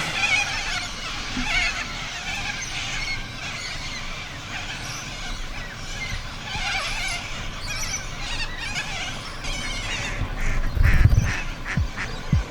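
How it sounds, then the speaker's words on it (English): A large flock of cockatoos screeches overhead in Australia, a dense, raucous wash of harsh squawks from many birds at mid distance, continuous throughout, with a louder burst of calls near the end. "So the sky is full of cockatoos."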